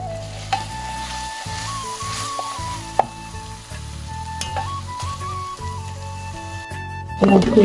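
Potatoes sizzling and frying steadily in a pan of hot oil with cooked-down spices for a Bengali home-cooked meal, a continuous crackle under background music, with louder spattering bursts near the end.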